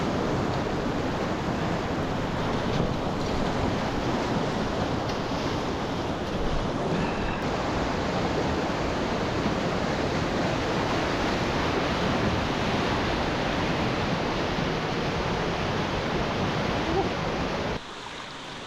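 Loud, steady rushing of whitewater rapids on the Franklin River fills the whole stretch, a dense continuous roar that cuts off abruptly near the end.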